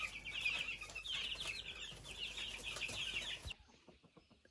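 Young chicks in a cage peep rapidly in a cool room of about 13 to 15 degrees, a busy stream of high chirps that cuts off abruptly near the end into quieter rustling.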